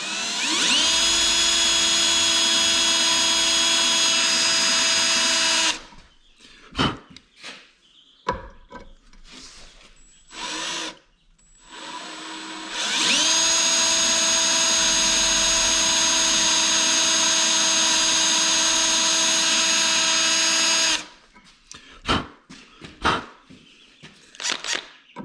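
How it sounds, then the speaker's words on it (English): Power drill working on a part from a Honda Big Red 250es three-wheeler, two long steady whining runs that dip in pitch as the bit bites, with clanks and handling noise between and after. "Now it's starting to drill out."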